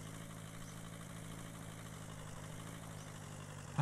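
A car engine idling in The Long Drive video game, a steady low hum with a faint even vibration, constant and unchanging throughout, no talk over it.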